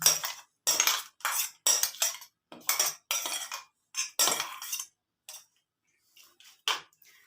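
A metal spoon scrapes and taps green pea paste from a grinder jar into a metal vessel, producing a brisk run of clinks and scrapes that thin out into a few scattered taps.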